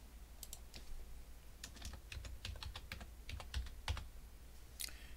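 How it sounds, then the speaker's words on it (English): Someone typing msconfig on a computer keyboard in a quiet room, a faint run of separate key clicks with uneven gaps, ending in one firmer press. "type msconfig into the search box"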